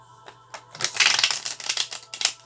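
A deck of oracle cards is shuffled by hand in rapid riffling bursts, close and fairly loud, with a faint low hum beneath and no talking.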